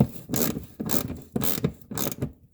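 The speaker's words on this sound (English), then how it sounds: "I like to hand start all my fasteners before I use the wrench" Ratchet wrench tightening fasteners during an oil change on a 2019 Yamaha Grizzly 700 ATV: four close, rhythmic bursts of clicking ratchet strokes separated by short pauses, with no talking.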